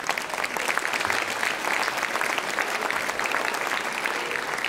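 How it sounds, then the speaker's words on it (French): An audience at a Christmas show gives dense, steady applause throughout, a continuous wash of many hands clapping at moderate volume. "c'est Florian, et vous pouvez l'applaudir également, qui les a réalisés"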